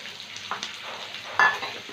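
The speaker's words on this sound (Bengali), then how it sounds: "বিন আর গাজরটা দু মিনিট ভেজে নেব দু মিনিট পর ক্যাপসিকাম দিয়ে দিলাম" Beans, carrots and capsicum fry in a pan with a soft, steady sizzle, quiet and close, broken by a few light stirring scrapes and one brief louder clink.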